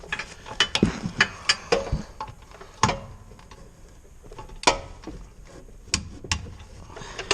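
A torque wrench tightening brake bolts on a Subaru STi, giving bursts of quick, close ratcheting clicks separated by short pauses, with no talk.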